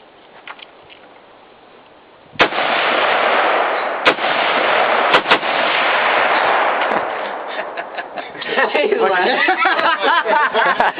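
AR-15 rifle shots outdoors: after a quiet stretch with voices, a sudden loud crack opens a sustained roar of rapid gunfire with several distinct sharp reports, and people talk and laugh over the noise toward the end.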